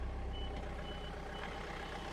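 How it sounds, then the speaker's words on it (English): A tractor's warning beeper sounds steadily as the rear three-point hitch assist engages, a faint repeating electronic tone over a low idling engine hum. "You'll hear the beeping."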